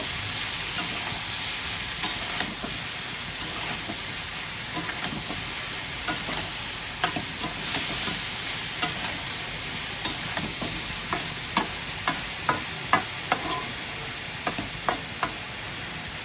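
Chicken curry with soybean chunks and mustard paste being stirred in a pan, a steady low sizzle under repeated scraping strokes of a spoon against the metal, sharper scrapes clustering toward the end.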